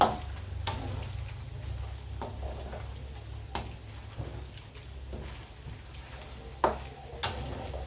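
Pork rinds fry as oil crackles and sizzles steadily in a pan while a utensil stirs, scraping and clicking against it at irregular moments, with a low hum beneath.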